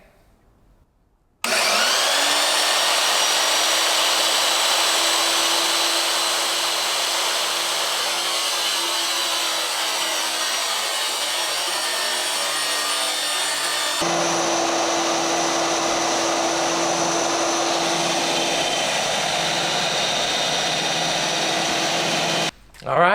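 A homemade 2x48 belt grinder roars at full speed on its first run, grinding 1/8 inch cold rolled steel. The loud, steady whine holds for about twenty seconds, its tone shifting partway through, then cuts off abruptly.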